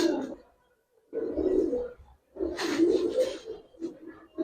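A male Giribaz pigeon coos nearby in three deep, throaty bursts separated by short pauses, clear and fairly loud.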